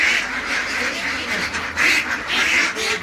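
Several ducks quack in loud, overlapping bursts nearby, a busy, continuous chorus of calls.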